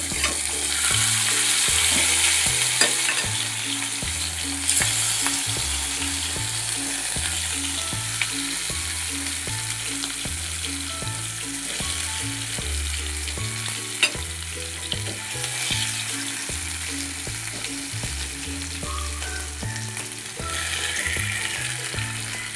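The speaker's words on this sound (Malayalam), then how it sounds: "ചിക്കൻ ഇത് ഓരോന്നോരോന്ന് പൊരിച്ചെടുക്കുക" Chicken pieces frying one by one in oil, a continuous hissing sizzle heard up close under steady, rhythmic background music, with occasional small clicks.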